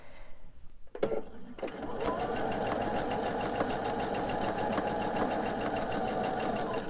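Sewing machine chain piecing fabric for a candy dish pillow, a few short clicks and starts before a steady continuous run of stitching, close up.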